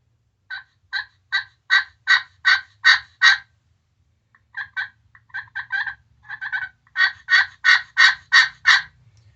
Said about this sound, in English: They have another version of the glass call which has a little turkey on it